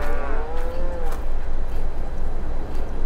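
Dairy cattle in Farming Simulator 22 give a few loud, drawn-out moos up close, overlapping one another over a low steady background.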